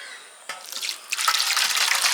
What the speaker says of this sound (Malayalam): നമുക്കിത് ഈ തോർത്തിനകത്തേക്ക് ഒഴിച്ചു കൊടുക്കാം.